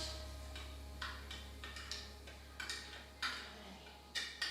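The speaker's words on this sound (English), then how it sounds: "I'm going to stir that around." Coloured sugar solution for growing sugar crystals is stirred in a container, giving faint, irregular tick-like clinks of the spoon against the side, about a dozen light taps spread over a few seconds with steady low hum behind.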